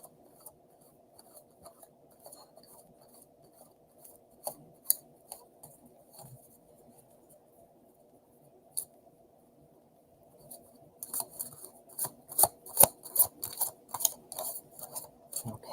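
Quiet papery flicks and soft taps of tarot cards being shuffled, growing into a brisker burst of crisp riffling near the end.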